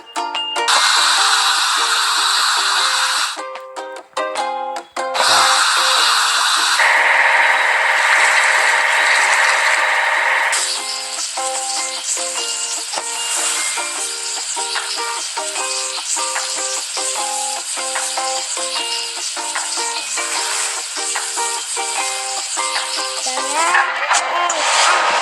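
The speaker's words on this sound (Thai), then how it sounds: "เราต้องล้าง เครื่องผสมปูน" A concrete mixer runs at a house-building site, producing a loud, continuous, close mechanical rattling and clanking churn, with brief changes in the clatter and a short dip before it settles into a steady grind.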